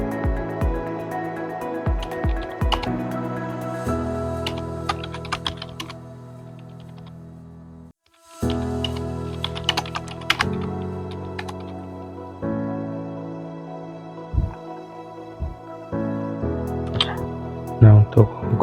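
Typing on a computer keyboard while editing text in Photoshop produces bursts of close, crisp key clicks with a brief pause midway, under a soft voice talking.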